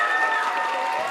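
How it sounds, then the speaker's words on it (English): Audience applauding and cheering at a school orchestra's June concert, a dense, steady wash of clapping with a few shouts, close and loud throughout. "Give them a round of applause"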